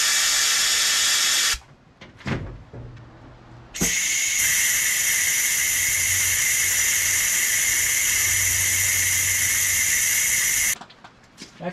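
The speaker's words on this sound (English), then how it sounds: "I'm gonna put some carb cleaner through those lines too." Carb cleaner sprays in long, loud, steady hissing bursts through the fuel lines of a 1979 Toyota pickup, with a brief pause and a short second spray before one long continuous blast.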